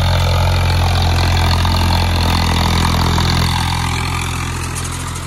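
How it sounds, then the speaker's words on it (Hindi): Tractor engine running steadily in a field during soybean and pigeon pea seeding, a loud close diesel drone with strong low harmonics that eases slightly toward the end, no talking. "देखो भाई ट्रैक्टर भाग रहा है"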